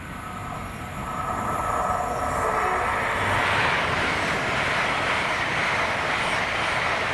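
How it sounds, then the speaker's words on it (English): A Class 801 electric passenger train passes steadily at Drem with a broad, sustained rushing roar that swells after the first second and holds loud throughout, no voices. "the 1656 London North Eastern Railway service to Edinburgh from London King's Cross with 801 230"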